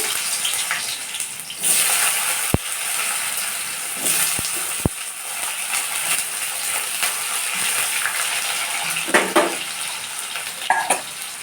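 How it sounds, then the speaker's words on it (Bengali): Steady frying hiss of potatoes in oil runs throughout, with a few sharp clicks and clatters of utensils and no voices present. "এবার আলুগুলোকে আমি ফ্রাই করে দেবো"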